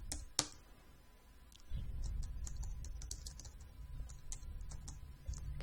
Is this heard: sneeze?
no